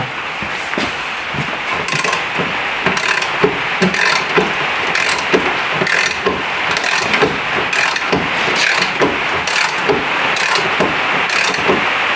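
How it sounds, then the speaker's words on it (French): A torque wrench ratchets steadily as it tightens a fastener to 20 newton metres, a loud, close run of rapid clicking pawl strokes repeating in bursts across the whole stretch, with no voices. "Donc on va la serrer jusqu'à 20 newtons."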